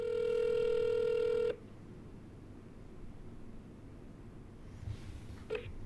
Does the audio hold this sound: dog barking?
no